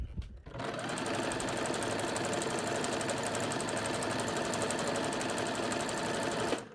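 A sewing machine runs a steady, continuous stitch along a garment seam where a bodice joins a skirt, loud and close, starting after a brief click and stopping cleanly, with no talk over it.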